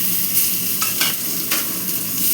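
Washed eggplant pieces dropped into hot oil, a loud, close, continuous sizzle with brief brighter bursts as the pieces hit the pan, no voices.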